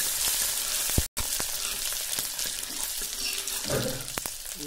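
Ground green chillies fry in oil with cumin on low flame, a steady close sizzle dotted with sharp pops, one brief dropout, then a louder splattering burst near the end.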